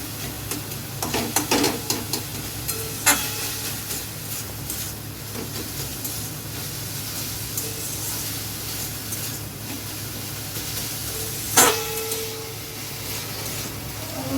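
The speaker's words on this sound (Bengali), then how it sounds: "অল্প মশলাতেই মাংসটা কষে নিতে হবে" Chicken meat stir-fried with a small amount of spices in a pan gives a steady sizzle with occasional scraping stirs and a couple of sharper clatters, close and moderately loud, with no voices.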